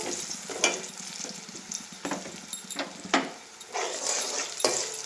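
Food sizzles in a pan while a spatula scrapes and stirs in irregular strokes, the frying hiss continuous underneath.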